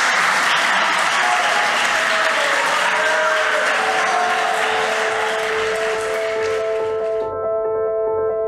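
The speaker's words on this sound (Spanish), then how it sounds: "un fuerte aplauso para Pablo" Sustained loud audience applause for the artist Pablo Auladell at a library event in Valencia, a dense steady clapping that fades out near the end.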